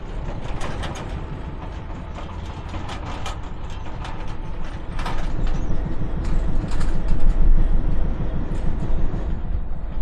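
A train rumbles steadily along the rails near Akhanagar railway station in Bangladesh, with rhythmic clacking, growing louder partway through; no voices.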